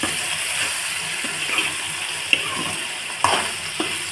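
Eggplant pieces frying dry in hot oil for vankaya fry, a steady soft sizzle and hiss running throughout, with a few faint clicks of stirring and a sharper knock near the end, no voices.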